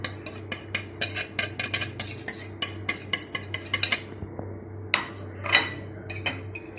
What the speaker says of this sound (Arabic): هقلب كله على البارد قبل ما احطها على النار